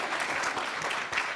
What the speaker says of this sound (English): please, you can put your hands together and clap